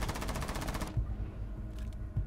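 A rapid automatic burst of gunfire in Rainbow Six Siege rattles for under a second, then cuts off, leaving a quiet low rumble with a couple of soft thuds.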